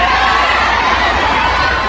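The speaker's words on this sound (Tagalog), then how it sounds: "Sumigaw lahat ng galit." An angry crowd shouts at a protest in the Philippines, a loud, dense and continuous roar of many voices that stays close and unbroken throughout.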